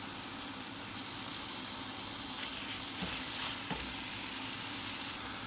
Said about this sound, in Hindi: इसको मैं कीमा डाल दूंगी इसमें और इसको अच्छे से भून लूँगी फुल फ्लेम के ऊपर